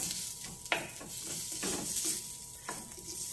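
Finely chopped half onion hitting melted butter with garlic in a pan, a soft steady sizzle with a few scraping stirs and light utensil clicks, close and alone.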